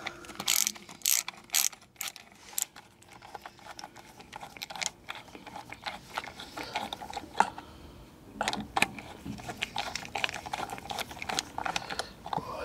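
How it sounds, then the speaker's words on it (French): A small ratchet screwdriver set to loosening mode unscrews a fastener, giving rapid bursts of crisp ratchet clicks, pausing between turns, close and fairly loud with no talking. "On le met en mode desserrage, et là, on dévisse."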